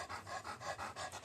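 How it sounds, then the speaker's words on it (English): A chocolate Labrador pants steadily close by, quick rhythmic huffs repeating about five times with no talking. "It's a chocolate lab."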